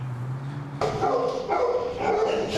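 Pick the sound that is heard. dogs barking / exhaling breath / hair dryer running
dogs barking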